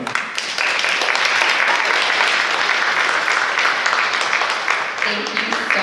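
Sustained audience applause at a queer storytelling event fills the room, steady and dense clapping from a crowd that tapers slightly near the end.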